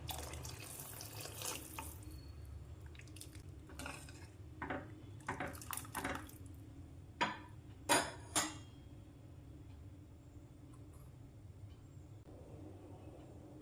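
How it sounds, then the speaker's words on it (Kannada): Water poured into a pan of tomato curry during cooking, a loud splashing pour for the first couple of seconds, then scattered clinks of utensils and brief knocks against a quiet kitchen background. "ಇನ್ನೊಂದು ಸ್ವಲ್ಪ ನೀರು ಹಾಕ್ತೀನಿ"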